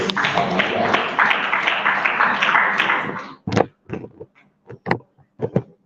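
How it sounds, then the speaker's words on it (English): A short burst of applause from a crowd lasting about three seconds, followed by a few scattered individual claps and knocks. "A round of applause for someone."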